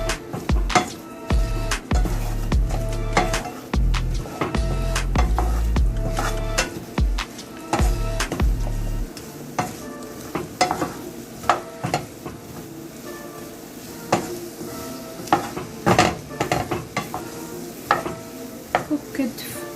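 Salted raw banana fry being mixed in a pan over a medium flame, with steady scraping and stirring strokes over a soft sizzle, low thumps in the first half and continued clatter throughout.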